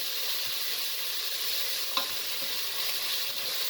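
Minced meat for a spinach dish fries in a pan with a steady, close hiss and one brief clink of stirring, with no one speaking.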